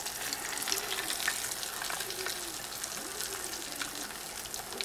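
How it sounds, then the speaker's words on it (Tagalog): Tilapia frying in hot oil in a home kitchen, giving a steady, close crackling sizzle throughout with no talk over it. "pwede na po nating ihulog yung isda. Ipiprito na po natin."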